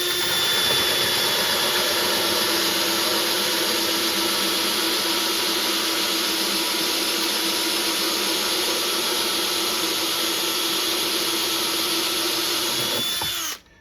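A power drill bores through the wall of a 5-gallon, 90 mil plastic bucket. It whines steadily and loudly at close range for about thirteen seconds, then cuts off.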